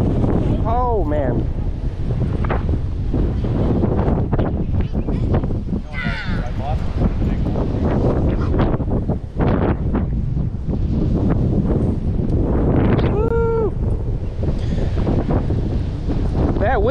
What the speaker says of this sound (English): It definitely feels like it's picking up.